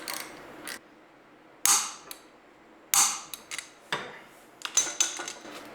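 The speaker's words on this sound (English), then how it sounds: "to hold it while I torque the ring bolts" A torque wrench tightens ring gear bolts on a Dana 30 carrier, giving several sharp, close metallic clicks spread unevenly between quiet pauses.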